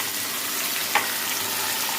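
Potatoes frying in a pan, with chopped tomato and a ginger-garlic-chili paste going in, give a steady soft sizzle and one brief clatter from the addition partway through.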